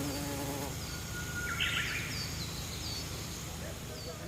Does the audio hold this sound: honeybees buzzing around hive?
yes